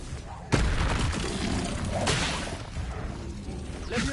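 The Expelliarmus disarming spell goes off in Hogwarts Legacy as a sudden whooshing blast, followed by a rumbling magical swell and a second surge, loud and close over game ambience.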